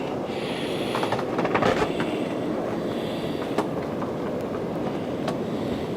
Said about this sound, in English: You can hear that wind.